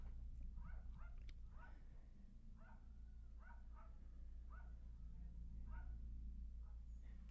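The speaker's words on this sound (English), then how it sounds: "You can hear the little yip yappy dog next door, I think," A small yappy dog next door gives a series of quick, sharp yips, about a dozen in loose irregular bursts, faint and distant over a low steady indoor hum.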